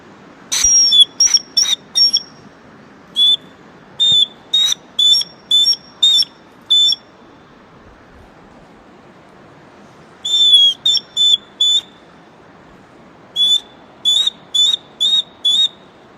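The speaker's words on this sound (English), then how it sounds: "I'll get out this little bare bone whistle," Short, shrill dog training whistle blasts in quick bursts of three to six, separated by pauses, loud and close over faint background hiss, outdoors in the mountains.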